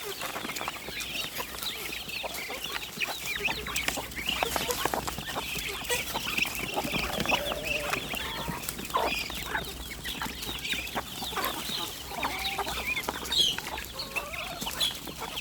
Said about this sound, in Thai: ไก่ก็หิวคือกัน